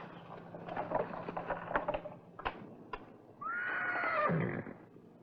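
Horse neighing in an old western town scene, a loud whinny rising and falling near the end, after quiet clip-clop and background bustle.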